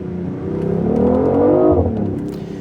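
A BMW i8 engine drones low and close as the car downshifts, then the revs climb smoothly into a rising, steady acceleration before easing off.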